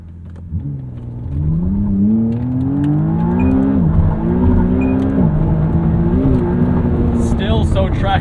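A 2023 McLaren Artura pulls hard at full throttle, its engine note rising loudly through several gears with brief dips at each shift. It stays close and strong throughout.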